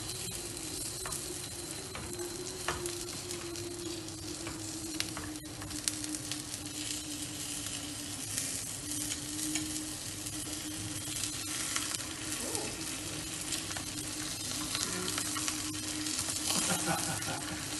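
Egg omelet with cheese sizzling steadily in olive oil in a pan, a continuous close crackle with faint scraping as it's flipped, no talk.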